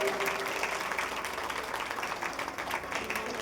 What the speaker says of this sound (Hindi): एक बार जोरदार तालियां इस परिवार के लिए।